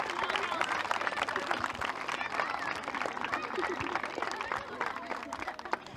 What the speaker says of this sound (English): I want everybody to give every girl in this pitch a round of applause today